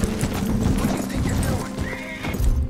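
A horse in Red Dead Redemption 2 gallops with loud, close clip-clopping hooves. A high whinny rises near the end of the run, and no one speaks.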